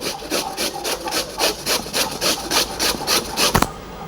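Pumpkin is rubbed on a kitchen grater in quick, regular strokes, about three each second. Each pass gives a close, scratchy, rasping scrape, and the strokes end with a brief knock.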